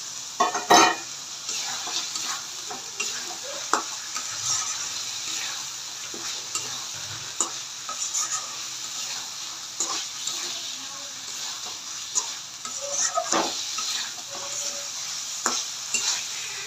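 Eggs fry in a pan of cooked spice masala, a soft sizzle under repeated clinks and scrapes of a spoon stirring against the pot, with a voice speaking at times.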